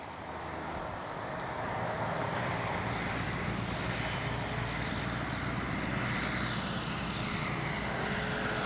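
An FMS F-16 64mm electric ducted fan RC jet makes a landing pass, its steady whooshing fan roar swelling from fairly quiet to loud and holding there, heard alone with no voices.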